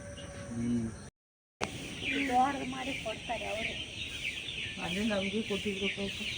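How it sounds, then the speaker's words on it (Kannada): Farm chickens cluck in short, fairly faint bursts, mixed with people talking close by. "ಇವೇ ಒಂಥರ ಕೋಳಿ ನೋಡು"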